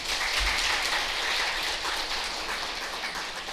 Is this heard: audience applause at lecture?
yes